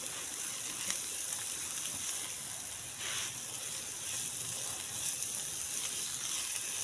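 Shredded chicken fries with masala in a pan for a chicken paratha filling, giving a soft, steady sizzle with faint stirring, fairly quiet and unbroken.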